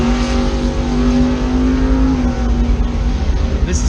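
Automatic C5 Corvette launching down a 1/8 mile drag strip with traction control off, its engine roaring loud and close with a strong steady drone that holds through the run, no talking.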